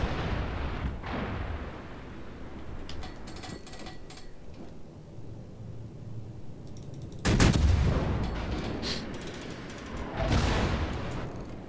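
Naval gunfire in World of Warships at Tier 6: scattered muffled booms and crackling salvos, with a heavy blast around the middle and another burst later, over a low rumbling background.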